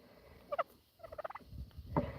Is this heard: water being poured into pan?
no